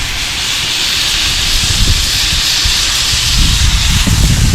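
An onion smash burger pressed flat with a burger press hisses and sizzles loudly on a hot griddle, a steady close steam-like hiss with low scraping bumps, no talking.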